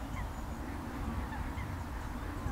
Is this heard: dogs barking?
no